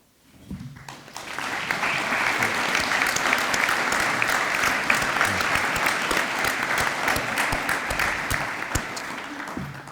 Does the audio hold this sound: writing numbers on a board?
no